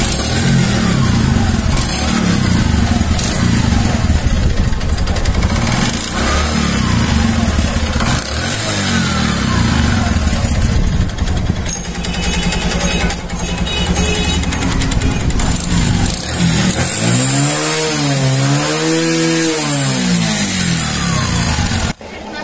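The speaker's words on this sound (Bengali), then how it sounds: "তো ইঞ্জিনের যে নয়েজ বা ব্যাড সাউন্ড তাতে কিন্তু বোঝা যাচ্ছে না যে কানেক্টিনও নষ্ট হয়েছে কিনা" A motorcycle engine with a bad knocking noise runs loud and close for over twenty seconds, with a rough, steady rattle and a few revs rising and falling near the end.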